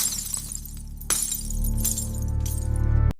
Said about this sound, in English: The champagne flute shatters against the hardwood floor